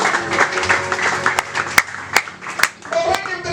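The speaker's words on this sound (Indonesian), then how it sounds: "Berikan tepuk tangan yang meriah buat Tuhan." Congregation clapping during a Christmas church service, with scattered sharp, loud hand claps over a steady murmur of voices. Some talking and a voice can be heard through the applause.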